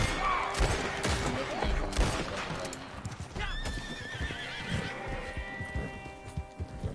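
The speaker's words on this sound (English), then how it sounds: "I just gotta go after the horse." A horse in the Red Dead Redemption video game neighs and whinnies amid clip-clopping hooves, with a burst of gunfire and shouts from a frontier skirmish, a loud, busy mix up close.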